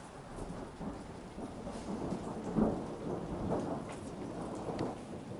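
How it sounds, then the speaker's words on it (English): Steady rain pours with rolling thunder rumbling through, a louder crack of thunder near the middle, heavy and close throughout. "Hear the sound of the rain, Blue?"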